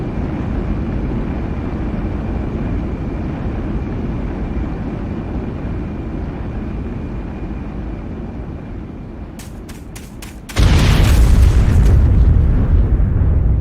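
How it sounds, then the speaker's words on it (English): Dr. Eggman's ship crashing and exploding in a Sonic video game, a long steady engine roar, then a few sharp cracks before a loud booming blast that carries on to the end, no talk. "Dr. Eggman's ship malfunctions and he and Elise end up dying in a crash"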